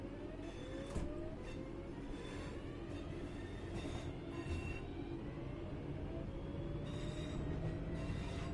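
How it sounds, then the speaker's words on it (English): Train wheel flange squeal in the Train Sim World 3 game: thin, high squeals sweep and repeat over a steady rolling rumble and faint rhythmic clicks, with no talking. "I do like the flange squeal on this."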